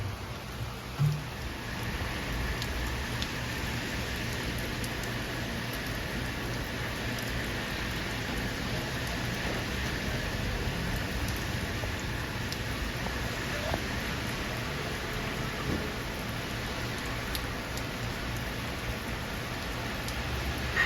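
Heavy downpour falling steadily outdoors, a dense continuous hiss of rain on surfaces with a constant low rumble beneath, unbroken and fairly loud throughout.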